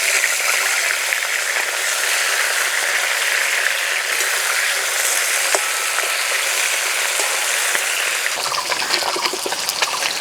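A katla fish head sizzles in mustard oil on a kitchen stove, a continuous close hiss and crackle of frying that roughens and shifts slightly near the end.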